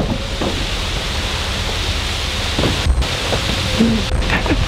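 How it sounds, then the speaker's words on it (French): Steady rain pours in a forest during a thunderstorm, a dense continuous hiss close by, with a few dull low thumps and brief rumbles breaking through and a faint voice briefly audible. "Je sais pas si vous entendez la pluie."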